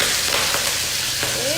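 Shrimp fry in hot oil for a pineapple shrimp dish, a loud, continuous sizzle with scattered sharp pops and crackles close by, and faint background noise underneath.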